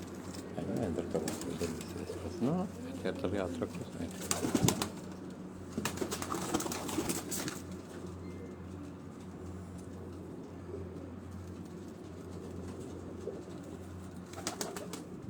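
Sialkoti pigeons coo in low, throaty rolls that run steadily through the stretch, close by, while someone speaks briefly over them and other birds chirp faintly in the background.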